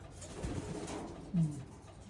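Roller pigeons coo in breeding pens, soft low throaty calls with one louder coo near the end over a quiet background.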